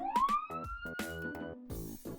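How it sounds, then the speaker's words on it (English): A cartoon police car siren wails with a rising tone, clear and fairly loud, over bouncy music in a kids' vehicle cartoon. "Police car."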